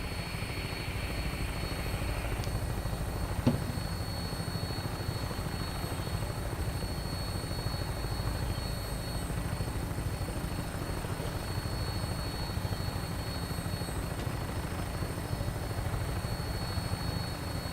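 A Fallout 4 vertibird lifts off and cruises with a steady, loud rotor and engine drone, a sharp thump near the start and then unbroken whirring throughout with no talk.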